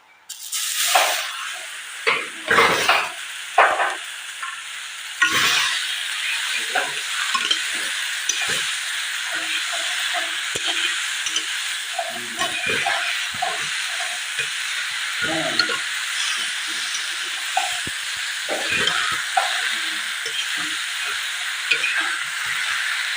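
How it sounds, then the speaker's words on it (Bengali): Sour greens frying in a pan with spices, a strong sizzle at the start that settles into a continuous hiss, broken by frequent scraping stirs of a spatula. "টক শাকগুলো মশলার সঙ্গে কিছুক্ষণ ভাজবো"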